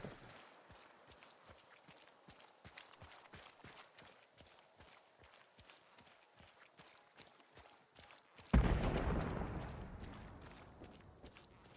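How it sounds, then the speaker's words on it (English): Squelchy footsteps in a video game walk at a steady, quick rhythm, clear and close. A sudden loud blast cuts in near the end and fades out slowly. "Walk my squelchy footstep ass over here"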